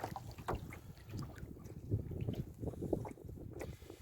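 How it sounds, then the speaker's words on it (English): A kayak is paddled on a lake in gusty wind, with soft, irregular water splashes and paddle strokes under faint wind rumble across the microphone. "So we're going to try and paddle this way."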